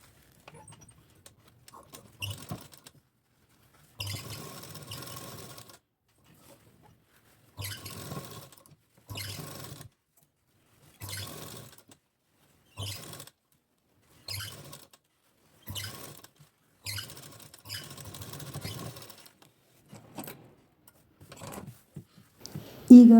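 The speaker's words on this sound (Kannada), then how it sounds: "ಈಗ ಉಲ್ಟಾ ಮಾಡಿಕೊಂಡು ರೌಂಡಿನ ಸುತ್ತ ಸ್ಟಿಚ್ ಹಾಕ್ಕೊಳ್ಳೋಣ," A sewing machine stitching around the rounded edge of a blouse sleeve runs in short bursts of rapid clatter, about a dozen separate runs broken by brief quiet pauses while the fabric is turned.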